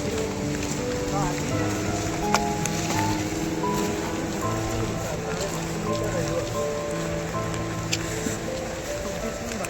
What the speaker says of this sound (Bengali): বৃষ্টিটা কমা বাবা